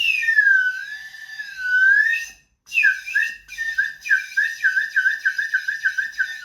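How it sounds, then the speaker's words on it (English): An Indonesian bamboo slide whistle glides up and down in smooth pitch sweeps, then after a short break warbles in quick wavering pulses, played alone and close. "Another fun sound effect whistle is the Indonesian bamboo slide whistle."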